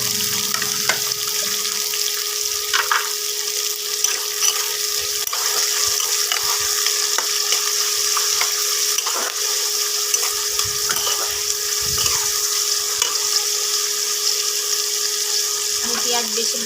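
Chopped onion and tomato sizzle steadily in hot oil in a pan where chicken has already been fried for a Bengali yoghurt chicken dish, a constant bright hiss with occasional clicks and spatters.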